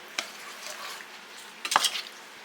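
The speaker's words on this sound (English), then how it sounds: "I'm just going to get that mixed up in there." Stromboli bake filling stirred in a pan with butter and garlic-herb seasoning, a couple of short scraping and clinking stirs over a soft background sizzle, close and fairly quiet.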